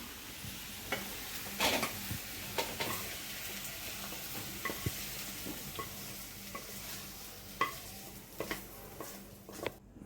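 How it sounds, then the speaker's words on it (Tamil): Chopped chow chow (chayote) sautéing in a pan, with a steady soft sizzle of frying broken by scattered clinks and scrapes of a spoon stirring against the metal, close and moderate in level, with no voices. "இப்போ இதெல்லாம் நல்லா வதக்கிக்கோங்க."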